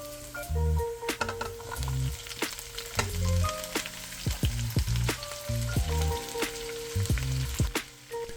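Vegetable leaves frying in oil crackle and pop in quick bursts over a steady rhythmic tonal background, with sharp clicks scattered across the whole stretch and no voices.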